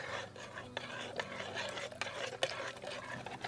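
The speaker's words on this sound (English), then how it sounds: "So just stir it until it's thoroughly mixed in." Steady scraping of a utensil stirring a tanning mixture in water in a container, continuous and close, with occasional light clinks against the sides.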